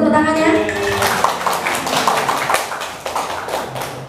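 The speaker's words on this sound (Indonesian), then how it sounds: "Boleh tepuk tangannya?" Audience of teachers at a school meeting claps in a steady patter of many hands, moderately loud and close, with a voice speaking over it.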